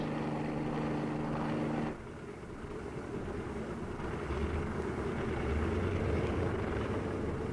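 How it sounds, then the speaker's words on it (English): Droning engines of training planes and helicopters hum steadily overhead at Fort Sill, Oklahoma, in the 1950s, a broad continuous rumble with a low tonal buzz early on, then a wider washing roar. "the sky is dotted with training planes and the increasingly popular helicopters"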